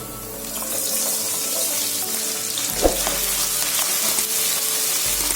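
Green chillies, curry leaves, ginger and garlic frying in hot oil for Kerala mutton roast, a steady close sizzle running throughout with a brief clink partway, no voices.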